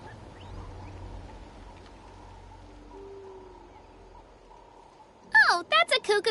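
A cuckoo soar bird in Genshin Impact's Natlan region lets out a burst of loud, warbling, yelping calls after quiet ambience, several rapid chirps close together near the end.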